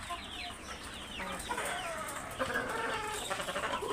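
A rooster on a poultry farm keeps up a run of nearby clucks and short squawks, loud and fairly continuous with no talk over it.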